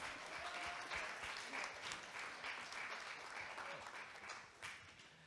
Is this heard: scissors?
no